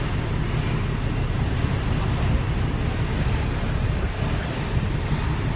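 Sea waves and strong wind far out on open water off Odiongan, Romblon, a steady loud roar of surf and gusting air across the microphone with no break.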